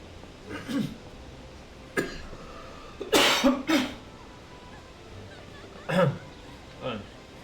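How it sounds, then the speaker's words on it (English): Several short coughs come in separate bursts over a few seconds, close to the microphone, including a quick double cough in the middle, over a low steady background hum. "Something made me cough."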